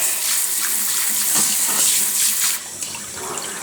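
Kitchen sink sprayer blasting a strong, hissing jet of water, loud and close, steady for over two seconds before easing into a softer spray with a few splashes.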